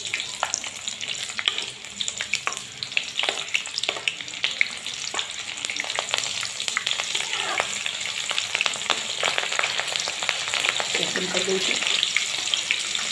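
Green chilies sizzling and spitting in hot oil in a pan, a steady dense crackle that holds throughout with occasional stirring, close and fairly loud, no talking.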